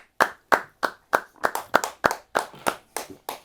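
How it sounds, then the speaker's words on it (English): Steady hand clapping on a talk-show set, about a dozen sharp, evenly spaced claps at a moderate pace, close and fairly loud, with no voices over them. "No, clap for me. I didn't hear the clap. Clap for me properly."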